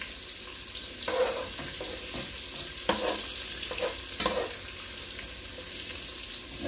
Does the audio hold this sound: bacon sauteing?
yes